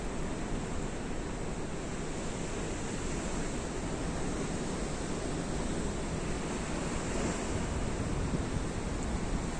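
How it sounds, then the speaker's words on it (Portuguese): Rough sea surf pounds and rushes continuously on a calm, windless day, a dense, steady roar of breaking waves with no pauses and no voices. "O tempo está muito calmo, mas o mar está bravo."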